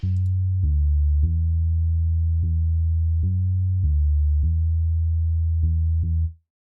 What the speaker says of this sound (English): Next sound is this bass from Expand